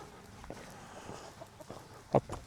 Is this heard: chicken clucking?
yes